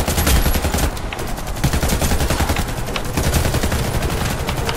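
Sustained rapid automatic gunfire in the shooter game Warface, a loud continuous rattle of shots with no pauses and no voices.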